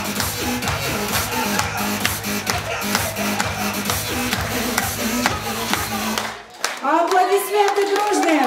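Wedding guests at a Russian celebration clap in a loose rhythmic pattern over background music for about six seconds, then the clapping stops and an announcer's voice takes over near the end.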